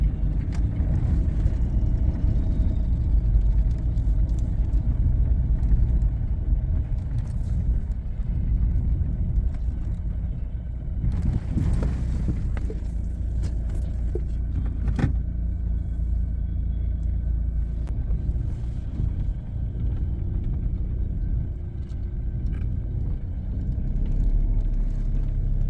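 Car driving into a shopping mall parking garage in Dubai, a steady loud engine and road rumble running throughout with a few brief knocks and clatters partway through, no talking.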